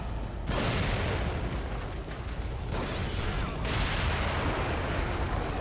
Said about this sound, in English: Is that in the process of blowing up, or what's going on?